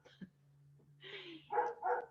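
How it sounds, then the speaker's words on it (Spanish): A dog barks a few times in the background, faint and distant, with a low steady hum underneath and no talking. "van a sentir de fondo un ladrido"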